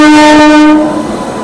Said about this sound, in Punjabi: ਲਓ ਜੀ ਆਪਣੀ ਟ੍ਰੇਨ ਆ ਗਈ ਟ੍ਰੇਨ ਆਪਣੀ ਪਹੁੰਚ ਗਈ